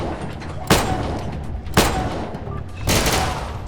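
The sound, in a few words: special pistol gunshots in Atom RPG video game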